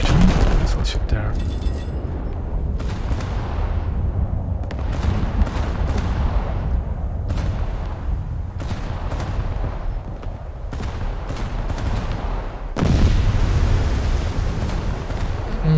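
Naval guns fire in a video game featuring the battleship Kongo: loud, repeated booming blasts with rumbling tails that overlap one another through the stretch, with a sharper surge of fire near the end.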